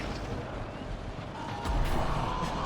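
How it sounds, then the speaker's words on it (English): A grenade goes off in Mass Effect Andromeda multiplayer, bouncing off a platform near a Progenitor enemy. Busy game noise runs throughout, then a deep, loud blast hits about two-thirds through and leaves a rumbling tail. "I was like, yeah, this is gonna bounce right off this thing and blow up right next to me"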